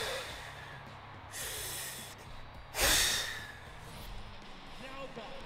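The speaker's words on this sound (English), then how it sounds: "Breathe in and breathe out like you're breathing through a straw." A person takes two deep, audible breaths in and out, as if drawing air through a straw, during a Super Mega Baseball 3 game session; close and breathy, with quiet gaps around them.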